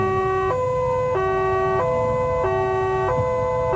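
An ambulance siren blares close and loud in a two-tone pattern, alternating high and low pitch about every two-thirds of a second.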